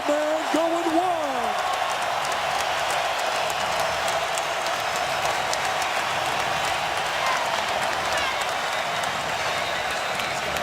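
A capacity crowd of more than 35,000 at a college basketball game between Duke and Syracuse roars in a sustained, dense wall of cheering and applause, with a commentator's voice briefly heard at the start.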